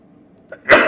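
A single sneeze from someone nearby in a classroom lesson, a brief intake followed by one loud, sharp burst that trails off at the end.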